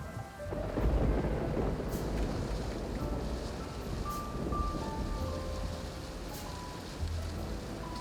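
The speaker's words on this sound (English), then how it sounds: "There's a storm brewing." A rainstorm with thunder in Los Angeles, deep rolling rumbles over a constant rush of falling rain, loud and close with no voices.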